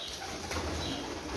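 Sialkoti-type pigeons cooing softly nearby, low throaty coos repeating under faint background noise, with no speech.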